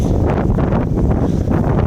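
Cold, blustery wind buffets the microphone outdoors, a loud continuous low roar with gusty swells and no voices.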